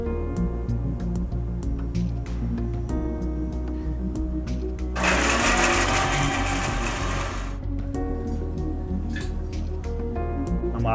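A mixer grinder whirs loudly for a few seconds as it grinds onion, green chili, ginger, garlic and coriander, with talk and a steady hum before and after it.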